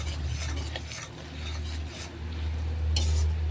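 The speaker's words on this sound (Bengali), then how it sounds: "এখন দিয়ে দেবো পরিমাণ মতো হলুদ দিয়ে ভালো করে আমরা মশলাটা কষিয়ে নেব।" Spoon stirs and scrapes a paste of green chilli, cumin and turmeric frying in a pan, with clinks of metal on metal and a faint low sizzle underneath; no talking.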